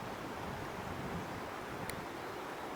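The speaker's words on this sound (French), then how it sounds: "Encore la rivière" A river in the Japanese Alps rushes in a steady, continuous broadband wash, near and moderately loud, with no voices over it.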